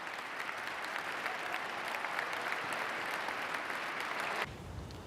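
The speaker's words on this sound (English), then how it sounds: "Words that drew applause from the crowd." Crowd applause at a political speech on gender policy, a dense steady clapping from many hands that carries on for several seconds and then drops off sharply near the end.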